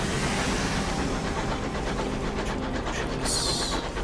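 A damaged sky locomotive running in the Sunless Skies video game gives a steady rumbling, rhythmic train-like clatter that holds throughout, with a brief high hiss near the end.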